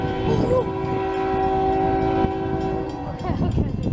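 A short CSX grain train passing close by, its horn sounding in a long steady blast over the rumble and clatter of rolling cars, loud and near, with no talk.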